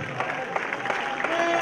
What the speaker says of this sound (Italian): Un applauso al Coulon Terral